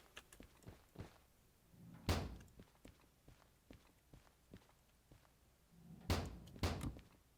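Locomotive cab doors in the Derail Valley train game swing open and thud shut with two loud slams, one early and one late, between lighter clunks and footsteps inside the cab.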